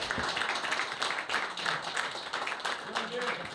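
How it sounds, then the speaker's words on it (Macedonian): Applause for a veteran footballer at a gathering of FK Teteks and FK Ljuboten veterans in Tetovo, dense continuous clapping from a crowd throughout. "Уште еден аплауз за Цоли Урошевиќ"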